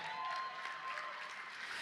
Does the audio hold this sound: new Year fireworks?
no